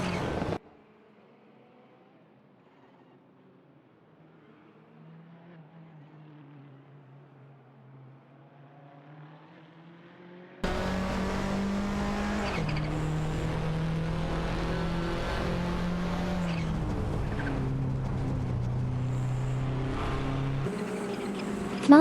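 Race cars, a TVR Tuscan and a Ford Sierra RS500 among them, drone in a racing video game, a faint whine at first before a loud, steady engine roar takes over halfway through.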